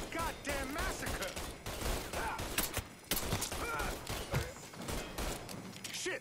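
Gunfire in Mafia 3, a steady stream of shots and impacts in a chaotic firefight, fairly quiet overall, with voices speaking in between.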